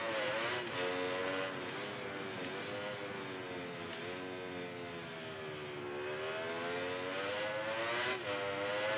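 A Ducati MotoGP racing motorcycle in the MotoGP 19 video game screams at high revs, its pitch rising and falling through gear changes as the bike accelerates and brakes, loud and continuous with no speech.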